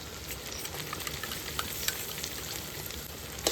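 Cumin seeds sizzle in hot oil in a frying pan, a steady close crackling hiss with a few sharp pops scattered through, and no voices.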